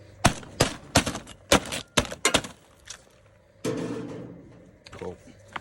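A bag of B&B charcoal is torn open with a string of sharp crinkling rips near a Weber kettle grill, followed by a longer rustling pour. A voice talks briefly over part of it.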